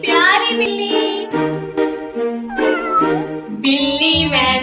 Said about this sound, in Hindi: जब मैं उसको पास बुलाऊं धीरे से कहती है म्याऊं म्याऊं